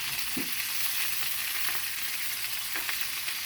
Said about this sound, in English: You could probably hear that hot oil cooking away.